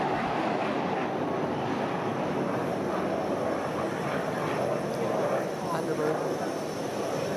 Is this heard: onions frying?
no